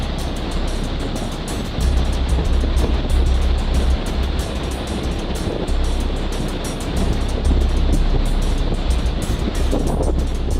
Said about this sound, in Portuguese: Hoje, o mar está em fúria.